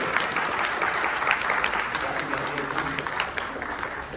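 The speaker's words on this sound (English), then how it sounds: "round of applause for Midnight" Audience applause at a fursuit dance competition, sustained dense clapping from a sizable crowd that stays loud and even throughout, with faint voices mixed in beneath it.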